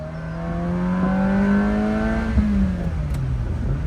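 Ferrari 348 V8 engine revving hard in second gear from inside the car, a loud rising scream with a steady harmonic whine that climbs, then drops slightly as the throttle eases.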